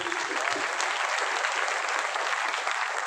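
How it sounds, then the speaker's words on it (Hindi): Loud applause rings out for Mukesh Kothari at a Hindi-speaking gathering, an even, dense wash of many hands clapping continuously, with faint voices mixed in. "माननीय श्री मुकेश कोठारी सर, एक बार जोरदार तालियां सर"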